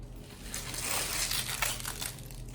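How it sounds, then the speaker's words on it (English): Crinkling, crackling plastic wrapping being pulled off a Dell KM7120W wireless keyboard, close and fairly loud, with a steady run of rustles and crunches over about two and a half seconds, no talking. "let's go ahead and take the plastic off of the keyboard"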